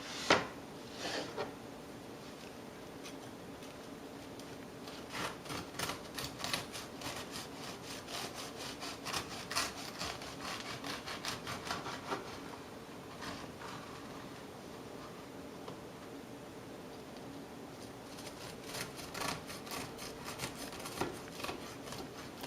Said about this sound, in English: let's cut it open, see what it looks like